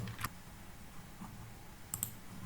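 Typing a colour code on a computer keyboard: a few sparse, crisp key clicks at irregular moments over a low steady room hum, close and quiet.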